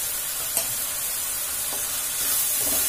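Coriander powder and garam masala stirred in a hot pan give a continuous soft frying hiss with a few faint spoon scrapes, steady and close, with no talk.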